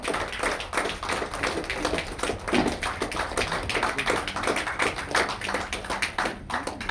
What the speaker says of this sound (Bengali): হাতের তালি দেন যতক্ষণ স্যার স্টেজে আসছেন